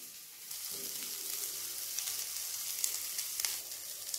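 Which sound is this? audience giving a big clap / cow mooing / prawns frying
prawns frying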